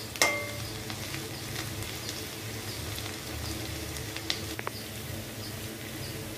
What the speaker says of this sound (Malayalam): മീഡിയം ഫ്ലെയിമിൽ വേണം ഇഞ്ചിയും വെളുത്തുള്ളിയും കൂടി ഇങ്ങനെ വഴറ്റിയെടുക്കാൻ.